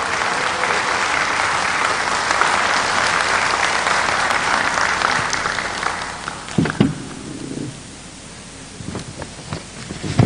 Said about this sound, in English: give a round of applause for the panelists